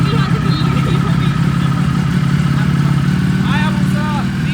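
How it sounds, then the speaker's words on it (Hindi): Motorcycle engines, including a Kawasaki Ninja H2 superbike, started and running in a garage, a steady mid-pitched engine drone throughout under loud overlapping talk. "चलो जल्दी, गाड़ियां स्टार्ट हो जानी ये चाहिए।"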